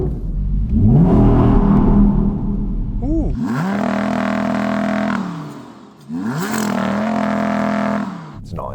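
An Audi R8 engine revs up hard several times on snow, roaring and then dropping back, loud and close, with a brief exclamation from a person.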